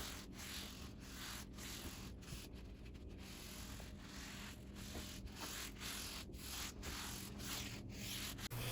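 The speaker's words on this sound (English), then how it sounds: "So I used a very fine, probably a 400 grit sand pad to lightly sand down those raised fibers" Wood being lightly sanded by hand with a very fine 400-grit sand pad to knock down grain raised by a paint wash, heard as a steady run of close, rhythmic rubbing strokes with no talk.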